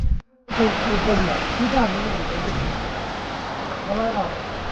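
A small waterfall stream on a mountain trail up Hoverla rushes as a steady, broadband splashing hiss close by after a brief dropout at the start, with voices talking faintly over it.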